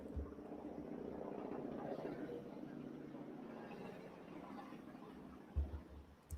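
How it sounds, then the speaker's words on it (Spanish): Helicopters flying over San Luis, Missouri at night, heard as a steady, distant low rotor drone that holds throughout, with a couple of brief thumps near the end. "Estos helicópteros, escúchenlo."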